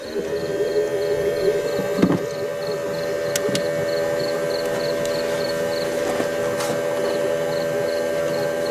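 An ANCEL S1000 12V EVAP smoke leak detector runs on an older car, giving a steady continuous mechanical hum with a faint repeating high tone, loud and constant throughout, with a couple of brief clicks.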